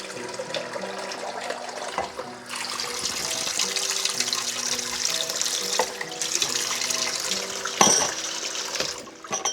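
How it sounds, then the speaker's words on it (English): Tap water runs continuously into a measuring cup for carrot cake batter, a loud steady splashing stream with a brief surge near the end. "So now I'll have to add 2 cups of water."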